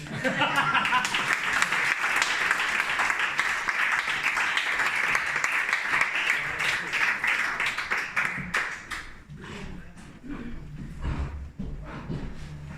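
Loud, dense applause from an audience greeting a speaker from the Podemos parliamentary group of the Madrid Assembly, sustained for about nine seconds before thinning into scattered claps with a few voices and light laughter.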